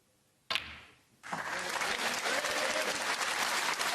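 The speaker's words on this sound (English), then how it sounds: "Warmly applauded by the waterfront crowd" A snooker crowd at a waterfront venue bursts into warm applause for O'Sullivan's century break. The clapping swells suddenly after a brief noise and holds as a dense, steady ovation.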